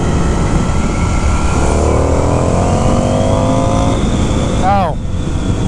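A 2019 Indian FTR 1200 S motorcycle engine drones steadily at medium throttle through corners, with rising harmonic tones as it pulls, loud and continuous under wind noise.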